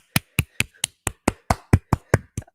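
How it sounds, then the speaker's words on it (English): Hand claps land in a steady, evenly spaced rhythm, about eleven sharp, close claps over a couple of seconds, each one crisp and isolated against silence. "I give you applause for achieving that."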